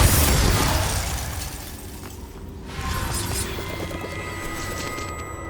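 A Confringo fire blast spell cast in the game Hogwarts Legacy inside a cave, a loud crackling burst at the start that fades into a hissing tail with faint ringing tones, no talk.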